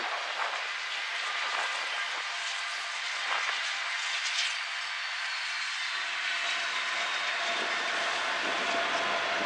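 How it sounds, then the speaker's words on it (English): A train approaches at an outdoor railroad museum in Altoona, Pennsylvania, as a broad, steady rumble and roar that holds through the whole stretch with a slight swell and no talk over it. "And also, the train's coming."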